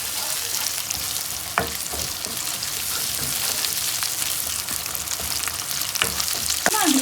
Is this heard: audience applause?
no